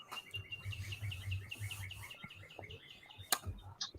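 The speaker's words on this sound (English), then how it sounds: "we hear these pretty birds chirping" Small birds chirp in a quick, repeating series of high tweets, fairly faint over a low background rumble, with a sharp click near the end.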